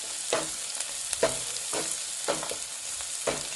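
Onions frying and browning in a pot for Bahamian peas and grits, a steady close sizzle broken by regular scraping stirs about once a second.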